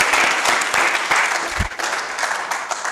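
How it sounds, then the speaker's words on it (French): Audience applause welcoming a youth council member at the launch session of a youth consultative council, dense sustained clapping from a crowd filling the room. "Sous vos applaudissements."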